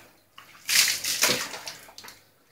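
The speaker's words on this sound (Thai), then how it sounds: "เดี๋ยวเชฟมาไปล้างมือแป๊บ" Running tap water splashes over hands being washed after cracking eggs in a kitchen. The flow is steady and close for about two seconds, with sloshing as the hands move under the stream. Nobody speaks.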